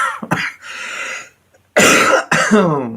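A smoker coughs harshly several times in short rough bursts, with throat clearing between them, close and loud, then a voice begins talking.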